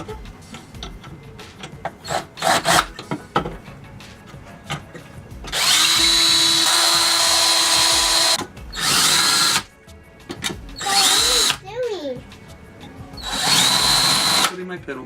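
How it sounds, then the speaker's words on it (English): Power drill with a 1/8 bit boring holes into a guitar pedal board: several loud whirring bursts of a few seconds each, close up, separated by pauses with light tapping and handling noise. "I've got a 1/8 bit in my drill here."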